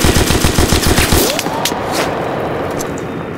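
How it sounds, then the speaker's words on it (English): Rapid machine-gun suppressing fire in a World War II squad combat video game in Brest, a loud close burst of rhythmic shots that cuts off into a reverberant wash and scattered distant pops. "Suppressing fire!"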